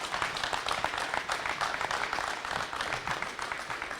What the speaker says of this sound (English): Would you please join me giving a warm round of applause to Deputy Ron Ken, please, everybody.